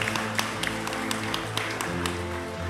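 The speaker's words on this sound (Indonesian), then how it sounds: "Mari kita berikan aplaus untuk kehadiran Mas AHY." An audience claps in welcome for a young party leader at a casual youth gathering in East Java, steady moderate applause with scattered sharp claps over a low musical hum.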